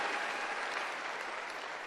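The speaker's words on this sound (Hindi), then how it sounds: "तो एक बार जबरदस्त तालियां इन सब लीडर्स के लिए" An audience at an event applauds the leaders, a dense steady wash of clapping from many hands, fairly distant and even throughout with no voices over it.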